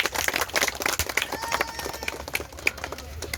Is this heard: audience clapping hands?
yes